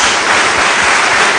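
A church congregation applauding Jesus, a brief, dense burst of many hands clapping together, loud and continuous with no gaps.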